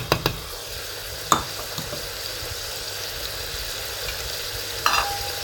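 Carrots and other vegetables tipped into a pan with fried onion, a steady close sizzle with a few sharp clatters and utensil knocks, no talking.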